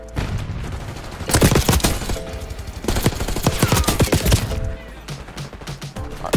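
Rapid gunfire in the shooter Black Ops 6, loud bursts of automatic shots in clusters between quieter gaps, with distant booms.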